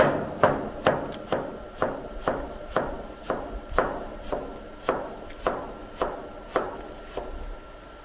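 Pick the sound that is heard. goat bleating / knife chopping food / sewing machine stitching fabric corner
knife chopping food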